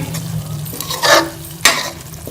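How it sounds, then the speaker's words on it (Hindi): Eggs stirred into a spice mixture in a pan for egg katli, with a couple of close scraping strokes and a soft sizzle beneath. "अपने अंडों को अच्छे से इसमें शामिल कर लेंगे और अंडों को मसाले के साथ मिक्स कर लेंगे।"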